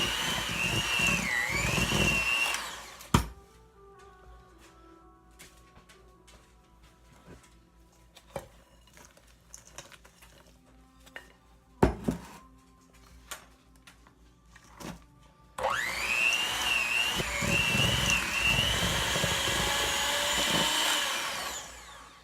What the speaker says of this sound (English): The mixer is just getting out of hand